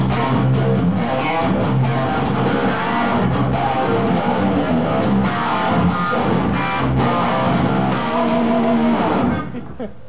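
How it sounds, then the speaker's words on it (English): Heavy palm-muted thrash chugging on a Steinberger guitar with its tremolo locked down into a lower key, played continuously and loud, dense low riffing for about nine seconds before cutting off abruptly. "take the trem down and lock it into a lower key and just chunk away a real heavy thrash sound"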